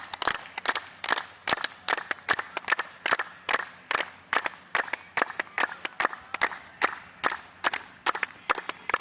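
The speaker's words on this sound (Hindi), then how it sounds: "हम लोग ताली बजाते हैं थोड़ी देर, चलिए।" A group claps hands together in a laughter yoga session, producing a fast, steady run of crisp, loud claps that continues without pause for the full stretch.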